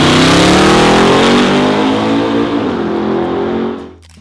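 A 1967 Oldsmobile Cutlass 442 Turnpike Cruiser muscle car engine roars close and loud, revving with rising and falling pitch before cutting off abruptly near the end.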